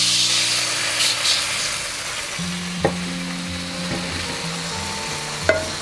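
Water poured into a hot pan of sizzling fu yung hai sauce, with a steady frying hiss throughout and occasional sharp clinks of a utensil stirring against the pan.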